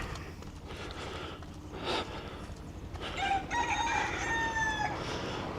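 A rooster crowing near a banana plantation on a walk around Playa Paraíso: one clear, drawn-out crow rising over a steady outdoor background, heard from a short distance.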